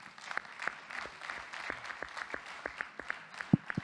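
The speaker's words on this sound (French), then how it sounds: "Applaudissements maintenant, mesdames, messieurs" A convention audience gives a moderate round of applause, scattered hand claps rising and falling unevenly over a few seconds, with a couple of sharper claps near the end.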